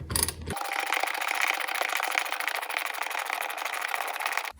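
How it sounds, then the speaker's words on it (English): Ratchet loosening a shock absorber nut on a 1993-2011 Ford Ranger, a fast, steady buzzing chatter of clicks running without pause for several seconds, fairly close and even, preceded by a brief thump. "Now just got to ratchet this guy off."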